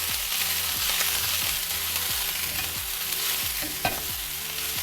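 Chopped wet chard frying in a pan, giving a loud, continuous close sizzle with the rhythmic scrape and clatter of stirring throughout.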